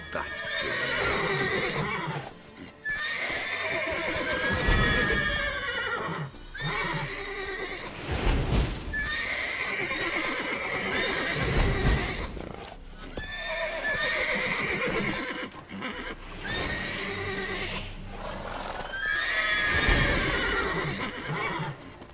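Horses in the video game The Witcher 3 whinny and neigh repeatedly across a busy scene, with hoofbeats clip-clopping underneath and a steady ambient bed throughout.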